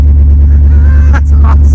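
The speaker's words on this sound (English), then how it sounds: "Let's hear this 392 Mopar engine, aftermarket put in." A Jeep fitted with an aftermarket 392 Mopar HEMI crate engine idles loud and close after a cold start, a deep steady rumble with brief voices over it.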